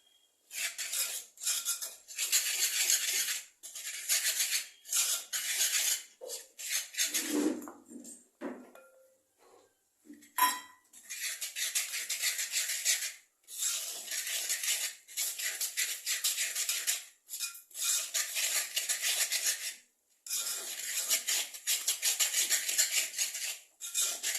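A spoon scrapes and clinks steadily against a bowl while a creamed wheat-biscuit mixture is stirred with country sugar, continuous close scraping broken by a few brief pauses and one quieter moment.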